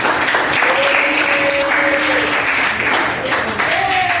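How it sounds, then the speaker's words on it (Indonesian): Classroom applause for the first group of students, a loud, sustained burst of clapping from the class with voices calling out over it. "Tepuk tangan buat kelompok pertama"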